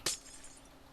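A glass block breaking in Minecraft, a single sharp bright shatter followed by a short fading ring and then near quiet, with no voices.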